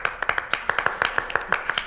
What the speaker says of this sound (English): And they all applauded.